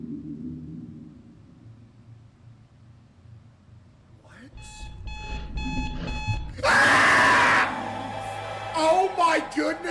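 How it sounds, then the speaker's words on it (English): In a video game, an alarm clock demon rings: a shrill, rapid electronic beeping rises over a low ambient drone, then a harsh burst of noise follows, with nobody speaking. "was that the alarm clock demon?"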